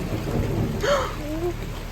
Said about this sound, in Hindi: बिजली कड़क रही है सिर, डरो मत।